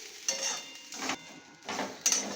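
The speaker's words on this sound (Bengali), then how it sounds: "কড়াইয়ের মধ্যে এইভাবে ভালো করে নাড়াচাড়া করে নিয়ে তারপরে আমি গুড়টাকে দেব।" Grated coconut is stirred in a metal wok for a dudh puli sweet, giving several separate scraping strokes of spatula on metal with short pauses between them, nearby and fairly quiet.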